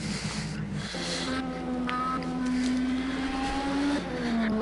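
A Camel GT race car pulls away from the pits at Laguna Seca in Project Cars 2, its engine a steady rising drone that climbs in pitch as it accelerates under other track noise.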